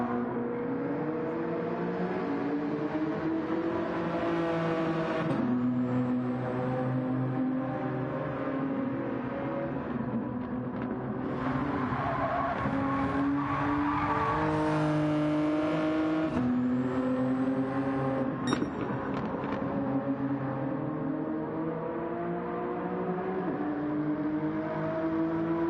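Engine of a Genesis G70 race car in Gran Turismo, revving steadily and loud for the whole stretch, with pitch climbing and falling through gear shifts and no talk over it.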